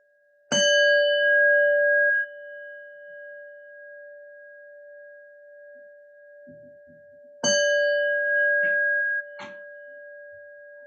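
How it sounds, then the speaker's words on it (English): A meditation bell is struck twice, each strike a clear sustained tone ringing for about two seconds before cutting off, the second coming several seconds after the first, with faint soft rustling between and no talking. "then we'll go in with the bell and the meditation"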